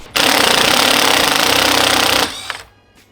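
An impact wrench or power driver buzzes in a steady rattling burst for about two seconds while backing screws out of a GK Tech shifter assembly for a Miata LS swap, then stops, followed by small clinks.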